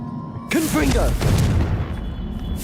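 The Confringo blasting spell from the video game Hogwarts Legacy goes off with a sudden loud boom and rumbling burst, while a character's voice cries out over the blast.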